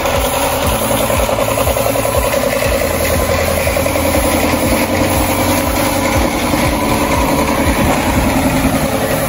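A Suzuki Scrum mini truck engine idles close up with a steady, even chugging rumble that holds at constant loudness throughout, with no voices.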